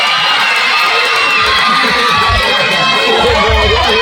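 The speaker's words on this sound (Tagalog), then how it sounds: "Ngunit kapag hindi pinagsabay ang masigabong palakpakan at hiyawan, ang Sabino ay masusunugan." A packed audience at a Miss Gay Queen pageant in Marulas roars with loud, continuous cheering, shouting and applause that fills the whole stretch without a break.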